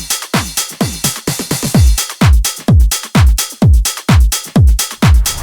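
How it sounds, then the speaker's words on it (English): Professional tech house drum beat with a punchy kick on every beat, its low thump sweeping downward, layered with crisp hi-hats and claps in a steady driving four-on-the-floor groove, loud and upfront with no voices. "If you want to create professional tech house drums that sound like this"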